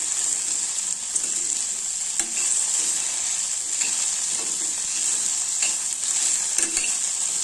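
Okra bhaji sizzles steadily in a pan while a spoon stirs it, with occasional soft scraping taps over a constant bright frying hiss and no talking.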